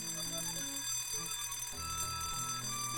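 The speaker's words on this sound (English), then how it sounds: "they're still trying to stop the alarm" Alarm ringing in the adventure video game Death Gate, a steady electronic ringing with layered tones that runs continuously for the whole stretch, loud and without pause over game music.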